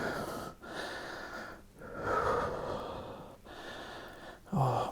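Deep, controlled breathing during a yoga flow: slow, audible inhales and exhales through the nose and mouth repeat in a steady rhythm, close and fairly loud, with no one talking.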